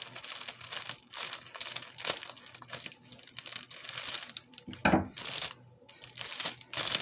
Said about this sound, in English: Take my scissors, just cut it right across the top.